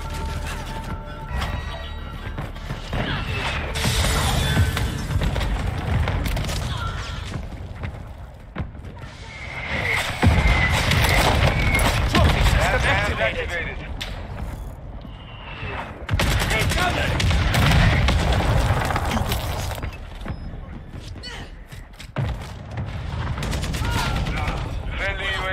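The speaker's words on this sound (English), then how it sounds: "Friendly mortar strike on the way." Mortar strike explosions and heavy gunfire in a Call of Duty Modern Warfare II Hardpoint match, loud bursts of crashing blasts and rapid shots coming in waves over continuous battle noise, with voices speaking at times.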